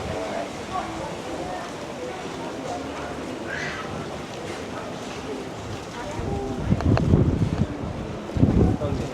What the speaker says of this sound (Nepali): त्यो चर्को हावा लाग्यो